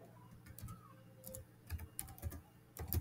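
Bursts of computer keyboard typing entering an address, quick clusters of soft key clicks separated by short pauses, close and fairly quiet, with no one talking.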